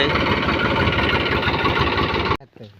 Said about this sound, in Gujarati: ટ્રેક્ટર જૂનું છે પણ તાકાત જબર કરે છે